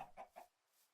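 Chickens in Minecraft cluck twice in quick succession, short and soft, then fall quiet.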